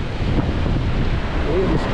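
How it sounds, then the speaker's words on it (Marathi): Wind buffets the microphone on the Alibaug coast near Morawane, mixing with a broad roar of sea waves in a loud, unbroken wash of noise. "ओवळलेला समुद्र आहे या साईड."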